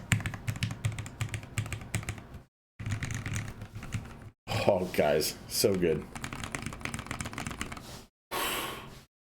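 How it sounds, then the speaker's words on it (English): Typing on an HBCP Proto custom mechanical keyboard comes in rapid, clacky bursts of keystrokes separated by short silences, with a person speaking briefly and exclaiming in the middle. "we're gonna do a typing test"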